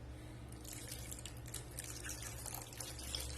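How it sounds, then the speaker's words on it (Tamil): Water poured into a pan of sundakkai kuzhambu made with sambar powder, a steady liquid trickle and drip running throughout over a low background hum, with no talking. "இப்போ நான் கிட்டத்தட்ட ஒரு அரை கப் அளவுக்கு தண்ணி சேர்த்திருக்கிறேன்"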